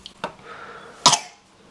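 A two-year-old boy coughs twice in short sharp bursts, the second louder and rougher, close by against a quiet background with no talk.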